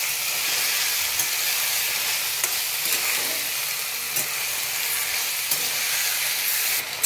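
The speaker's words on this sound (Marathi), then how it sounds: "मी त्याला मोठ्या आचेवर कंटिन्यू फ्राय करतो आहे" Chicken for a spicy kadai masala fries uncovered on a high flame, a dense, steady sizzle and hiss that carries on without a break, close up, with a few faint clinks of stirring.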